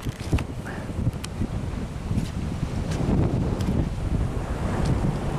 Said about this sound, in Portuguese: Tá um vento pra cada um aqui.